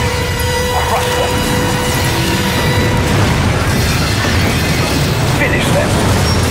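A video game battle with weapons firing and explosions: a dense, loud, continuous roar of blasts and booms, with voices speaking over the din throughout.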